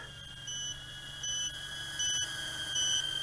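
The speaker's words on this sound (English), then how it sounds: "the buzzer is indicating that I am short on battery power here" A small FPV racing drone, the XF90 90mm micro brushless Baby Shuriken X1, sounds its low-battery warning buzzer: four short high-pitched beeps at a steady rhythm over a constant motor whine and faint background hiss.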